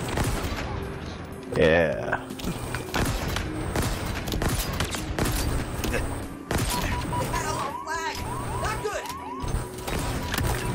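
Rapid bursts of Mangler pistol fire and other weapon shots in a Halo Infinite match, dense and loud throughout with game effects, someone briefly talking over it.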